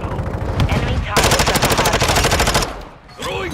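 Automatic gunfire in a first-person shooter video game, loud rapid bursts of shots in quick succession, then a short pause and a game sound effect, with a voice talking faintly underneath.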